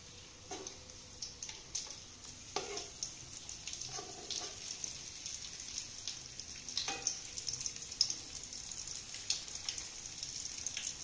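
Vegetable cutlets shallow frying in oil on a medium flame give a quiet, steady sizzle, broken by soft crackles and scattered ticking pops throughout.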